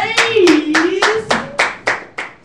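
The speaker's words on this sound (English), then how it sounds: "give your Father a hand clap of praise" Rhythmic hand claps of praise in a church service, about eight loud, sharp claps in a steady beat, with a voice calling out over the first few.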